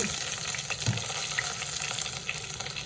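Cinnamon, cardamom, cloves, curry leaves and ginger fry in hot oil in a pan for a coconut pepper chicken, giving a steady close sizzle with soft stirring scrapes throughout.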